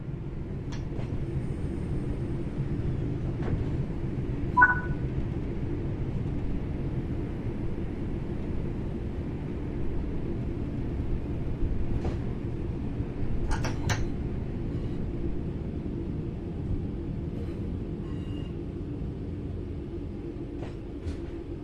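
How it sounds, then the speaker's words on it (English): A train in Train Sim World 4 coasting on level ground with throttle off, a steady low rumble of wheels and running gear with a few faint clicks and squeaks, no talk. "The train will then coast on level ground, and the train will only slow down very gradually."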